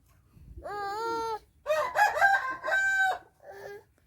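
A rooster crows close by, two or three drawn-out calls with a short final note, loud and clear with no talking.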